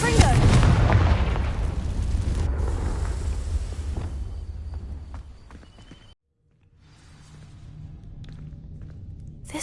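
A Confringo fire spell blast in Hogwarts Legacy, a loud booming burst with crackling that fades over several seconds, then a brief silence before faint ambience returns.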